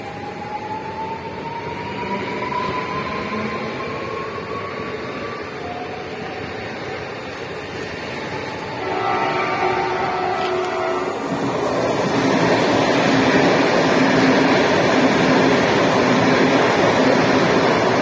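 A Pendolino express train passes through a railway station without stopping, a rising rush of wheels and air that swells from a distant hum into a loud, sustained roar, with a warning tone sounding early on.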